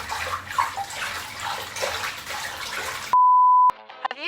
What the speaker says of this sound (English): Have you ever wanted to use the relaxing sounds of water in your own personal audio project?